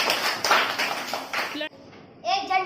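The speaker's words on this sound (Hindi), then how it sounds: "चलो ताली बजाओ उसके लिए।" Children at a government school in Chhattisgarh clap together in a quick burst of close claps. Children's voices rise over the clapping and go on after it stops.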